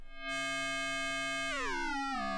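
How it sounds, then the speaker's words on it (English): A two-operator FM synth voice on a Beehive/Knit mini-Plaits module plays a sustained, bright harmonic tone that holds steady, then bends and sweeps downward in pitch with shifting overtones near the end. "we've got the two operator FM. This is two sine wave oscillators modulating each other's phase."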